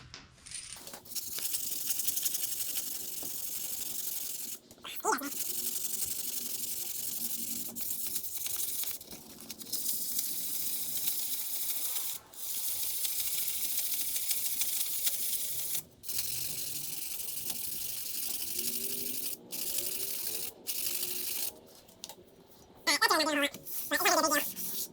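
A brake rotor on a car fitted with Hawk Performance brake pads is scuffed with 220-grit sandpaper and sprayed with brake cleaner, giving a series of hissing, rasping bursts broken by short pauses, with a few clicks and knocks near the end.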